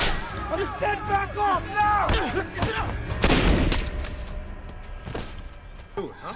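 Police gunfire brings down Fowler in the film Four Brothers: a burst of sharp shots and thuds breaks out amid loud film dialogue and effects, with scattered further cracks afterward.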